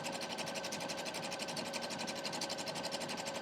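A sewing machine runs a high zigzag stitch down the middle of a quilted crumb block made from pieced batting, fleece and flannel. Its motor hums steadily with a fast, even stitching pulse, close and alone.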